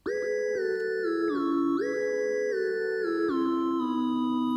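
A bright synthesizer plays a sustained melodic line of gliding held notes, clean and steady, with no voices.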